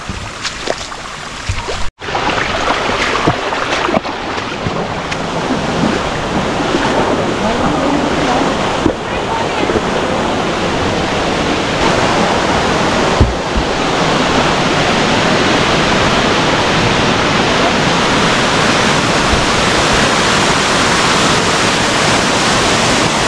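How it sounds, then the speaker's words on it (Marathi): A waterfall among rice paddy fields pours a loud, continuous broadband rush of water with no pauses, close and steady throughout, after a brief sharp knock near the start. "चला तिकडे एक धबधबा आहे, आपण घेऊयात"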